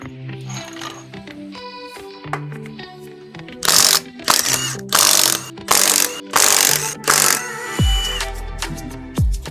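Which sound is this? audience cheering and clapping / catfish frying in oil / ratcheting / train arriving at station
ratcheting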